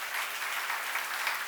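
A congregation claps during a church seminar sermon, a steady, fairly quiet wash of applause with no voices over it.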